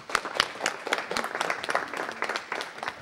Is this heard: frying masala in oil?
no